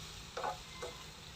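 Eggplant and achara tossed in a frying pan, two brief soft scraping stirs a moment apart, faint over a quiet background.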